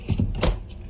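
A car door in a Brazilian radio station ad, heard as a single short thump with a brief mechanical whir around it, close and clean, with no voices.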